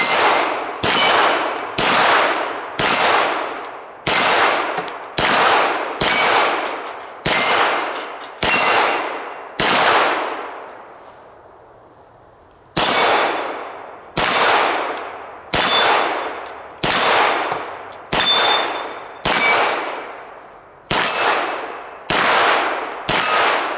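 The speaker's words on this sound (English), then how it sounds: "I'm just going to shoot a little bit of steel." Smith & Wesson M&P 2.0 pistol fired at steel plates, about nineteen loud shots each ending in a ringing metallic clang, in a steady rhythm with one longer pause midway, and no voices.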